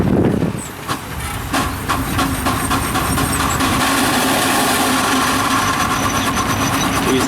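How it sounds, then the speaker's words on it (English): A tractor pulling a cultivator at the 2019 Wellington County Steam Threshers show runs with a steady, moderately loud engine drone and a faint clatter of machinery. The noise holds even throughout. "There's a cultivator going there."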